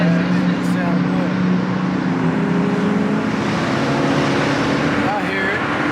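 Engines rumble and rev continuously at a car meet with an SRT Hellcat nearby, a loud dense roar filling the whole stretch while people talk over it.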